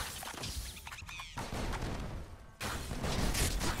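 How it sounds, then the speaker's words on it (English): Robots firing in the video game Stuffed, where the player fights nightmares as a fluffy bear: dense, crackling bursts of shots in two loud stretches, broken by a brief quieter gap, with no talk. "Get out of here with your crazy gunfire."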